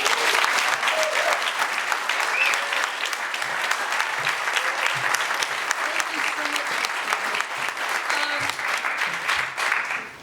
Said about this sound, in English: maybe for another round of applause